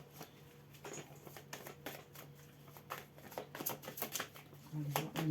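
Tarot cards are shuffled and tapped back into order close by, giving irregular flurries of crisp card slaps and riffles that grow busier toward the end.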